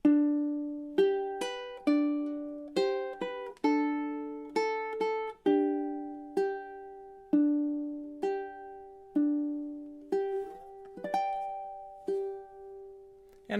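Ukulele plucks the closing four bars of Waltzing Matilda, a measured sequence of bright single notes and occasional doubled stops that ring out and fade, played up close and unaccompanied, ending on a long sustained note.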